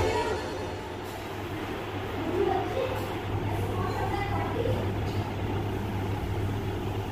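A local train coupled to a rescue locomotive rolls along steadily in an MSTS train simulator game, a continuous low rumble with a steady hum and faint clatter throughout.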